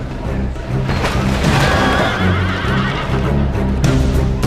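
Cavalry horses in a historical battle video game at the Battle of Hydaspes whinny loudly over a dense battle din, with a long neigh near the middle and hoof clatter underneath, no talk.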